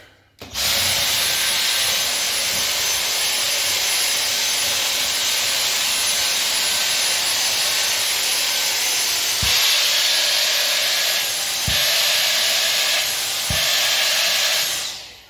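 A Dyson V6 handheld vacuum fitted with a new battery runs at full power, with a steady loud high-pitched motor whine lasting over fourteen seconds and a few faint knocks near the end.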